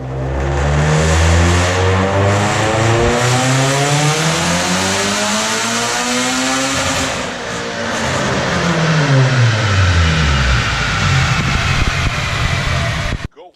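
Tuned car engine running on E85 during a dyno horsepower pull, loud and close, rising to a high rev, briefly dropping back, then climbing again before cutting off abruptly.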